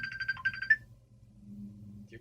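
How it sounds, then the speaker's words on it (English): A mobile phone ringtone plays a short repeating electronic melody in quick bursts, then stops, leaving quiet room tone with low murmuring voices. "That's my phone."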